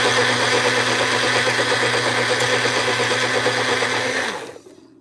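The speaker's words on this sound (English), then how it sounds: "Okay, now we'll blend this in. We'll turn this on." A blender runs loud and steady on hot coffee, a dense whirring roar that holds constant for about four seconds before the motor cuts off and spins down to quiet.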